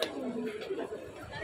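Pigeons coo softly at a square on Ibrahim Khalil Road, low and fairly faint beneath a steady hum of outdoor ambience.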